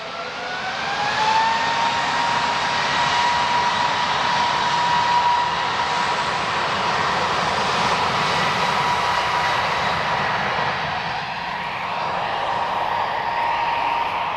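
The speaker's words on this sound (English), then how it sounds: "I couldn't interrupt that jet noise then" A jet aircraft at Lisbon Airport roars steadily and loudly for the whole stretch, with a rising whine early on and a broad rushing engine noise that holds before easing slightly.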